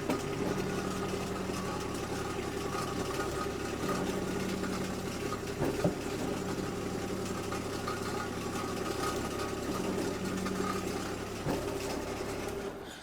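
A used RTV utility vehicle idles with a steady, close engine drone and low vibration while its hydraulic tipping bed is raised and lowered by lever, with faint clunks and a hydraulic whine running underneath.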